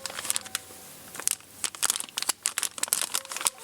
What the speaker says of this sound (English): There may be a piece of paper. Here's the piece of paper.